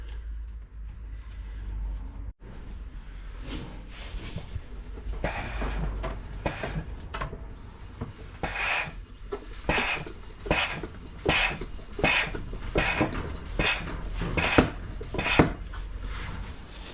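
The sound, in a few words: Sealy suction pump pumping oil out of differential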